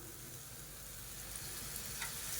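Okra masala with gram flour and yogurt fries in oil in a pan, making a soft, steady sizzle with a few faint pops and crackles and no voices.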